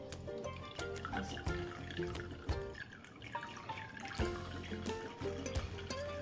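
Water drips in quick, irregular drops close by from a tied cloth of yogurt hung to drain for shrikhand, with a soft tonal hum running underneath the whole time.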